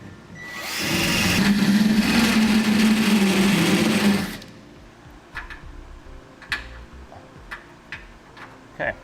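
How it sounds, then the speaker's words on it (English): A drill fitted with a carbide bit grinds into the steel frame of a 2012 Chevrolet to enlarge a hole, giving a loud, steady whine for about three seconds. After it stops, a series of scattered metallic clicks and taps follows. "I'm just using a drill with a carbide bit on it to grind away some of the frame"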